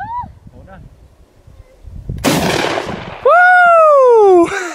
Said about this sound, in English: Ash is about to shoot this 12 gauge for the first time